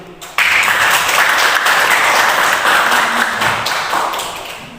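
A tenth-grade class applauds at the close of a lesson on pollution, loud close clapping that starts abruptly, runs steadily for a few seconds and gradually thins out.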